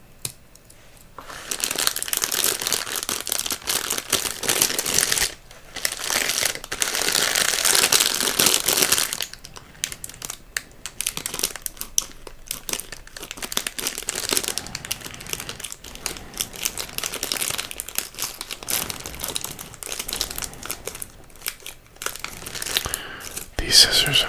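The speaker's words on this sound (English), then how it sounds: "let's just use these scissors." Scissors snip and slice open a plastic candy bag of Swedish Berries, with bursts of crinkly, rustling plastic close to the microphone over about twenty seconds, loud crackly stretches broken by short pauses.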